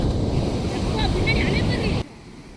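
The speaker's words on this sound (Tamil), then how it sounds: "பெரிய பெரிய அலையாக வருது" Big sea waves at Manapad beach roar against the shore under wind buffeting the microphone, with a voice briefly heard before the sound cuts away abruptly.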